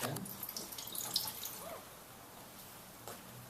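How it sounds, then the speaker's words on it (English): A couple tablespoons of water poured into the bottom of an aluminum pop can, a faint brief splashing trickle followed by quiet dripping and a soft late tap. "I'm adding, I don't have a tablespoon, but a couple tablespoons of water into the"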